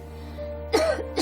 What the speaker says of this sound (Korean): 언제부턴가 기침이 심해진 엄마.